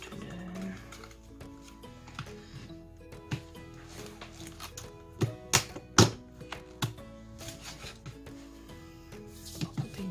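Card being cut from paper scraps to make a floral craft tag. Faint, intermittent snips and rustling paper with a few sharper clicks, close by in a quiet room.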